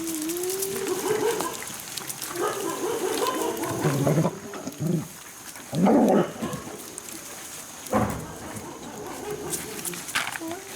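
Several dogs arriving at a new building bark and yelp intermittently in short scattered bursts, some nearer and louder than others, over a steady background hum and rustling.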